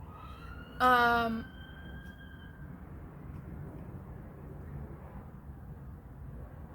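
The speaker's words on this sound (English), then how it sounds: "think that was a police siren." A brief police siren wails in the distance for about half a second, rising in pitch, while a person speaks nearby over quiet room noise.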